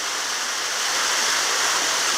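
Mountain stream water flows steadily in a continuous, close broadband rush with a waterfall-like hiss, unbroken and without any voices across the short stretch.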